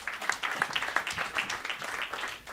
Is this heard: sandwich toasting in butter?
no